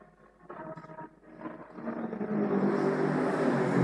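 White Cobra race car driving past, its engine note swelling from a faint distant whir to a loud, rising roar as it comes closer, heard alone without talk.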